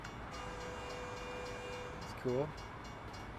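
A train horn sounds one short, moderately loud blast passing through a small country town in the American Truck Simulator game, over a steady engine hum and ambient game noise, with a brief spoken remark.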